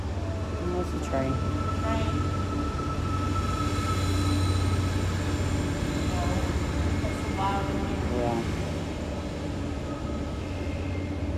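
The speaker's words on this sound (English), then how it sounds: "So train coming through." A train rumbles past in a continuous loud roar near Sensabaugh Tunnel, with squealing and clanking tones rising and falling, voices faintly audible over the noise.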